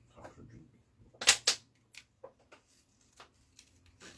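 Scissors cutting around a holly-printed paper piece for a Graphic 45 Christmas mini album: a few close, sharp snips and crisp paper clicks in a short irregular burst, then lighter scattered taps and rustles.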